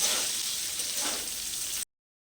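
Salted cauliflower florets fry in a pan with a soft, steady sizzle that is quiet and close, lasting under two seconds before cutting off abruptly.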